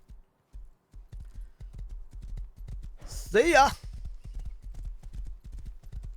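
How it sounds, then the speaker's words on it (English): Horse hooves clip-clop in the video game Rust, an even, steady trot of close footfalls throughout, with a short whinny partway through and a brief spoken word. "Let's take the horse though."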